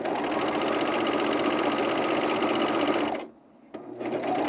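A serger sewing machine stitches underwear in a steady, loud, fast mechanical whir that stops abruptly near the end, followed by a short click and a soft restart.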